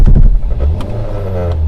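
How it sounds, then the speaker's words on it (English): A manual transmission car's engine starting, heavy low rumble close by that settles into a steady idle over a couple of seconds, with no talking. "So let's start up the engine and see how it runs."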